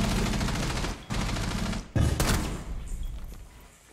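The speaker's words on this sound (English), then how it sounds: "they just kept shooting through the wall and ended up killing me" Sustained bursts of gunfire punch through a wall in a Rainbow Six Siege ranked match, loud and dense, breaking off briefly twice before a heavy shot and more firing that gradually thins out.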